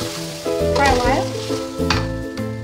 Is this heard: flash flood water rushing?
no